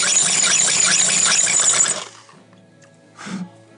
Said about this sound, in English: So I'm going to drill some more on this.